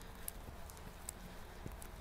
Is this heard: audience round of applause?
no